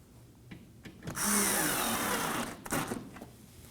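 A power tool runs for about 1.5 seconds as it drives a single Phillips screw on a 2016-2020 Kia Sorento 2.4L, with a short second burst following. The whine is close and fairly loud, with light handling clicks before and after.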